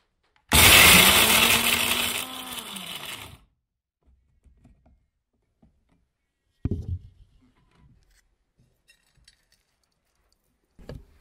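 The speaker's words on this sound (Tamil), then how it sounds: "இது நம்ம இப்போ செஞ்சு காட்டணுங்கிறதுக்காக மிக்சியில் அரைச்சி காட்டுறோம்." A mixer grinder whirs loudly for about three seconds grinding herbal tooth powder, then cuts off; a few clatters and knocks follow in near silence.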